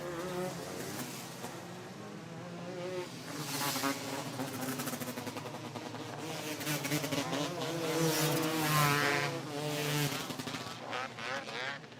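Outlaw class race cars on a kart club track at a state titles meeting buzz and whine as their engines warm up, a layered, insect-like drone swelling and fading at moderate distance.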